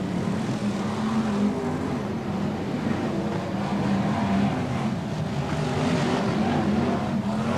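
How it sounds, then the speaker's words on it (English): BriSCA Formula 1 stock cars race at Boston in 1993, their engines merging into a dense, steady roar from a full field of cars that holds loud and unbroken throughout, with no voices over it. "BriSCA 4-1, stock car action."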